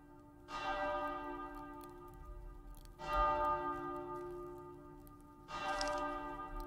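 Church bell in the video game Ad Infinitum tolling three times, each loud ringing strike decaying slowly into the next, with a low rumbling ambience underneath and no voices.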